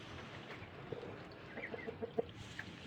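Hens on a backyard poultry farm cluck in short, scattered bursts, growing a little louder toward the end over a soft rustling background; no one speaks.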